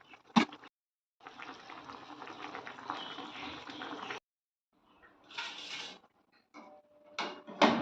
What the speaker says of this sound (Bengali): তো মাছগুলো দিয়ে দিয়েছিলাম আর মাছের ঝালটা ফুটে গেছে।